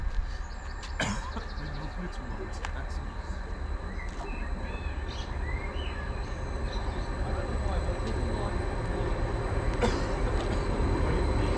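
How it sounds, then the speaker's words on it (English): A Greater Anglia Class 755 passenger train on the Bittern Line pulls into a small platform with a low rumble that grows gradually louder, with brief clicks and birdsong in the background and someone talking over it. "arriving in now is the 1418 Greater Anglia service to Sheringham, which we're taking to West Runton"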